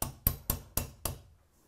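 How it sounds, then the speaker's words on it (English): A hammer drives a 1/8 inch pin punch to tap a trigger pin into a Remington 700 rifle build, five sharp evenly spaced metallic taps close up, fading away at the end. "Now we can take an 1/8 inch pin punch and hammer, and then just kind of very gently tap things into place."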